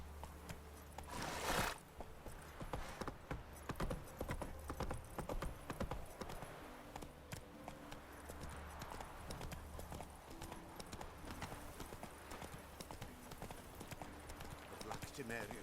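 Steady rhythmic clip-clop of a horse's hooves in The Witcher 3, continuing throughout at moderate pace beneath game ambience, with a brief louder burst early on.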